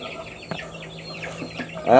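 Chickens in a backyard coop give a few soft, scattered clucks and chirps at moderate distance over a low background hum, ending in a louder, harsher squawk.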